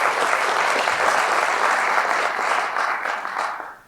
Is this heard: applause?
yes